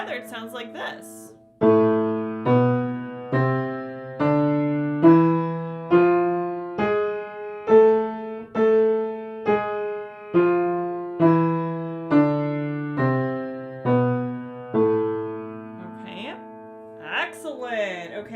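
Piano plays an A harmonic minor scale with both hands together, a steady run of evenly spaced notes climbing and descending in octaves, clear and close with no talking.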